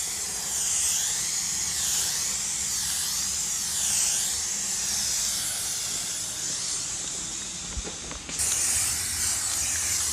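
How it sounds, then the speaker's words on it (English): A defective aerosol can of thick bedliner coating, stuck spraying, hisses in one continuous, loud, unbroken spray that wavers slightly, cutting out briefly near the end before resuming, while coating a 2004 Chevy Suburban 2500. "This one doesn't want to stop spraying."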